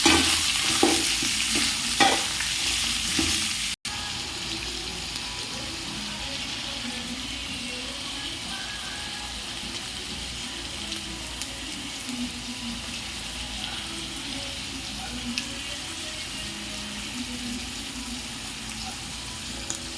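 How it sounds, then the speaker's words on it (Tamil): Chicken pieces sauté in hot oil for a chicken gravy, sizzling steadily while a utensil stirs and scrapes the pan, with a few sharp clinks early on and a quieter, even frying hiss afterward. "கறி நல்லா நம்ம கொட்டி நல்லா வதக்கி எடுத்துக்கிறோம்."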